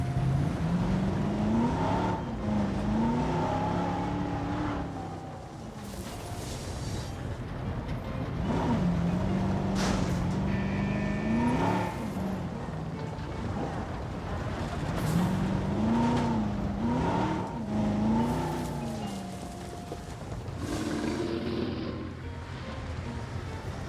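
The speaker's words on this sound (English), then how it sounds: "Drive the vehicle." Vehicle driving in Jurassic World Evolution, a loud engine whose pitch rises and falls repeatedly as it revs and shifts, with rumbling bumps over rough ground throughout and no talking.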